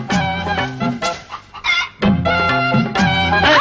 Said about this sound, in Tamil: முதல்ல ஓடி போன கோழி பிடிக்கணும்.